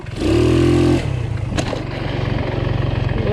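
A stunt scooter with a knocking crank, ticking valves and a whining variator revs hard and loud for about a second as it lifts into a wheelie, then drops back to a rough, pulsing idle.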